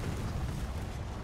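Kamikaze Grunts exploding in Halo Wars 2, a brief dense rumbling burst of explosion noise filling the short moment at steady loudness.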